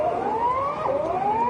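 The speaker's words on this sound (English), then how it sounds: "Tsunami sirens were heard in Ecuador." Tsunami warning sirens in Ecuador wail with a rising, sweeping tone that climbs, dips and climbs again over a steady background hum, sounding somewhat distant.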